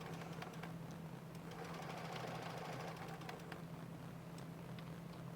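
A sewing machine stitching a quilt block runs steadily with a low, constant hum and rapid mechanical ticking, faint and continuous throughout with no voices.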